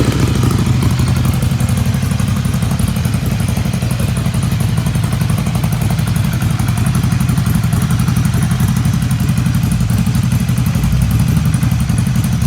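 A Honda City car with an aftermarket exhaust rumbles loud and close, a deep steady throbbing drone with a brief rise in revs early on, heard from about a meter and a half away.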